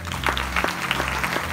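Brief burst of applause from a conference audience in Castelmaurou, steady, dense clapping of moderate loudness over a low background hum.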